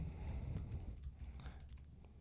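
Quick, faint clicks of typing on a computer keyboard, irregular and close, with a soft low hum underneath.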